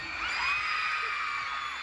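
An audience shouts together on a count of three, a sustained crowd yell that holds for nearly two seconds, loud and dense with many voices.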